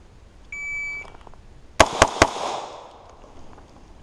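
Shot timer in a rifle-shooting session with two ARs: a single clear electronic beep, then three sharp, loud gunshots in quick succession, with a fading echoing tail afterward.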